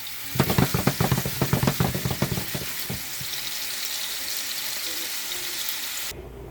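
Meatballs frying in a pan for a spaghetti and meatball dinner, a steady hiss and crackle throughout, with louder clattering bursts early on as they shift in the pan.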